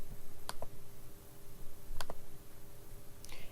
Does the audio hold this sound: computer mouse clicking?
yes